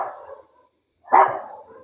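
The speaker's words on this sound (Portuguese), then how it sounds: "Deixa eu dar uma pausa que os cachorros estão loucos" Dogs barking nearby in a home, a short bark then a pause and a louder, sharper bark with a trailing yelp, with no speech.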